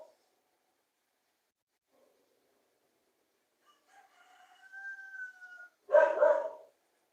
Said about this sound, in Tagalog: Makulit tong aso namin.